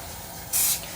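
Short hiss of an aerosol spray of GluBoost accelerator over acrylic turning on a lathe, one brief burst lasting about a quarter second over a low motor hum.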